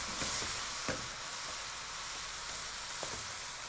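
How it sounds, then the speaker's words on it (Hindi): Vegetables and beef frying in a pan for a black pepper beef stir fry, a steady close sizzle and hiss with occasional small pops and stirring clicks. "फ्राई करेंगे सब्जियां और साथ बीफ को वापस शामिल करेंगे"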